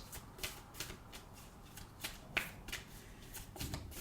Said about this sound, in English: So this is the Moonology deck from Yasmin Boland